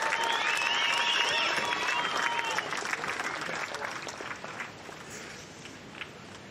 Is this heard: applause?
yes